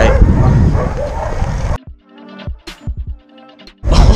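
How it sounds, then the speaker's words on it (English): Several dogs bark and yip in a quick run of sharp calls, heard between bursts of loud rushing noise on a spring day on the road to Amersfoort. "All those dog barks."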